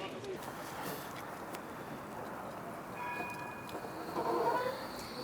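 A tram at the Forest tram stop in Nottingham gives a steady, moderately close rumble with a faint high whine that swells slightly toward the end.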